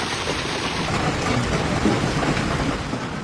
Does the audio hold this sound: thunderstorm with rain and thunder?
yes